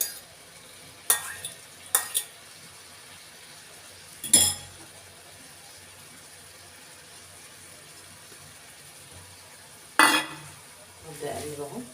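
Eggs and tomatoes for shakshuka are stirred in a pan, with a few sharp utensil clinks and scrapes spaced between long quiet stretches under a faint sizzle.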